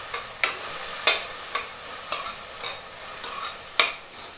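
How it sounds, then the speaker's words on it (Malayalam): Onions, ginger, garlic and green chilli sautéing in a pan: soft sizzling frying underneath sharp scraping stirs of a spoon against the pan, about eight strokes at an uneven rhythm, close and alone. "നമ്മുടെ സവാള ഏകദേശം വഴന്ന് വന്നിട്ടുണ്ട്."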